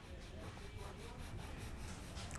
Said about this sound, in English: with your edging file, you can either leave it like so and just rub it across like this